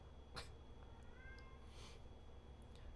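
A cat meows softly a couple of times in a quiet room, faint and somewhat distant.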